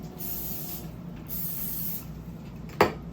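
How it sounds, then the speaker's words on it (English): Cooking spray hisses onto a mini waffle maker in a few quiet, airy bursts, two of them longer and steady, followed by a sharp little clack near the end. "we're just gonna go ahead and spray our little mini waffle"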